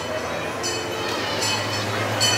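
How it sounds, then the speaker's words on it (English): A Christmas train approaches at Irvine Park Railroad, a steady low rumble and hum with faint rail clatter that grows slightly louder, broken by brief hissing bursts. "I hear a train approaching."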